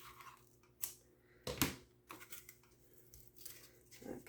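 Scissors snip through a piece of tan fabric up close, a few quiet, separate cuts with soft rustling between them.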